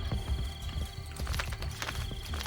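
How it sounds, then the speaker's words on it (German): A horse in the Assassin's Creed Brotherhood video game gallops, its hooves clattering in quick, uneven beats at moderate volume with no voice over it. "Das faule Pferd."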